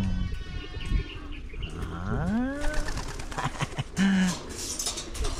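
Pigeons cooing in a loft, a few low warbling and rising calls heard close over background farm noise.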